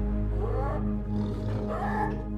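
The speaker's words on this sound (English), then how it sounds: "Tigers reverberating roar." A deep, rumbling tiger roar swells, dips briefly, then rises again in a long reverberating growl, close and loud.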